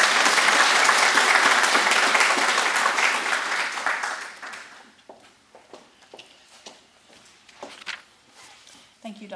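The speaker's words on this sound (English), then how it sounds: "Let's give all of mine another round of applause." An audience at an award ceremony applauds the awardees, loud sustained clapping that fades out after about four seconds into scattered claps, shuffling and a voice speaking.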